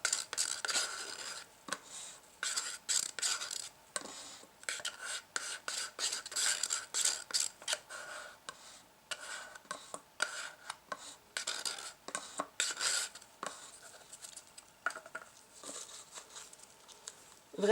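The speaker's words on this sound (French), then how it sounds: "on va venir mélanger notre résine pendant 3 minutes" Epoxy resin and hardener are stirred together with a stick for several minutes, giving a steady run of soft scraping and patting strokes against the container walls, close and fairly quiet, with no talking.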